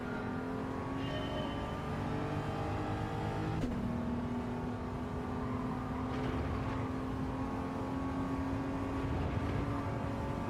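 A race car engine in Gran Turismo drones steadily at high revs for about ten seconds, loud and close, with a quick gear shift partway through before the tone settles again under light tire and wind noise.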